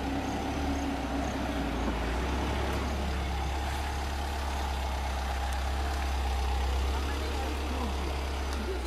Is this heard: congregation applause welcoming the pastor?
no